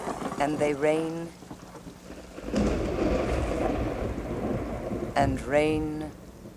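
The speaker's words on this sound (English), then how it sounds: "The deluge." Heavy rain and thunder in a deluge, a broad dense roar of downpour with low rumbling swelling loud in the middle, between stretches of talk at the start and end.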